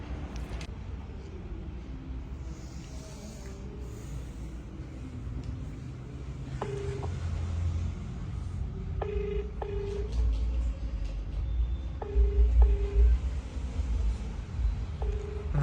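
A telephone dials and rings, with short repeated tones sounding in a quiet indoor setting, while low background noise and faint voices continue underneath.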